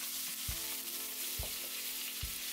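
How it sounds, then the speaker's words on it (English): Ginger garlic paste and turmeric powder frying in three tablespoons of hot ghee, a steady close sizzle with a few soft thumps from stirring, no voices. "let's add some ghee. 3 tablespoons of ghee. I am going to add a tablespoon of ginger garlic paste and 1/2 teaspoon of turmeric powder."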